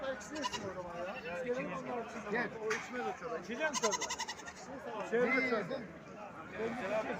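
Several goats bleat repeatedly amid a lively crowd at a livestock market, their wavering cries overlapping with people talking nearby in a busy, noisy setting.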